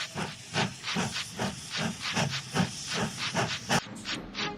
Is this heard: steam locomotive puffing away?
yes